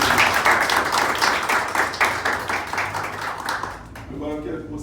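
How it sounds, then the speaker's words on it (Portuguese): Sustained audience applause at a church service, dense clapping holding steady and loud before fading out near the end as a voice begins. "Você pode aplaudir."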